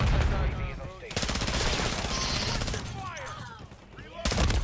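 Gunfire in the shooter Call of Duty MW3, with shotguns in play: loud, rapid overlapping blasts in near-continuous bursts, a short lull, then another sharp volley, with a voice talking underneath.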